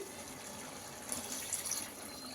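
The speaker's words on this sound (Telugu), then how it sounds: "ఇప్పుడైతే వాటర్ వేస్తాను" Water pours and splashes steadily into a pot of rice for chicken biryani, a soft, continuous gush heard fairly quietly with no talking.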